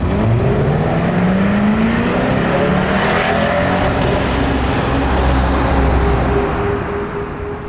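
A 2022 Chevrolet Corvette Stingray C8's naturally aspirated 6.2-litre V8 drones loudly from close range, its pitch climbing smoothly under acceleration then levelling into a steady rumble before easing off.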